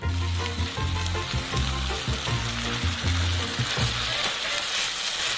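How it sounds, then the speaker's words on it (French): Chili con carne with canned goods, salt, Worcestershire sauce and dark chocolate being stirred in a sizzling pot, a loud continuous frying hiss with rhythmic scraping stirs throughout, close up and without speech. "Et on mélange bien le tout."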